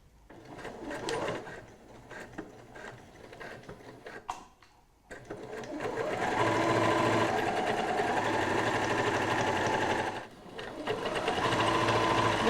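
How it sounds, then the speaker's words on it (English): A twin-needle sewing machine top stitching along the top edge of an apron pocket runs in short bursts at first, pauses briefly, then hums loudly and steadily in a long continuous run, stopping once before starting again. "I'm going to top stitch around the top edge."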